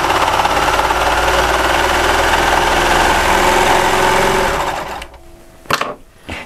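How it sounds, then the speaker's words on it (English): A Baby Lock serger running fast on a clean finishing seam, giving a loud, steady, high-speed mechanical whir that cuts off near the end and leaves a few soft clicks. "Notice the serger's going to go fast."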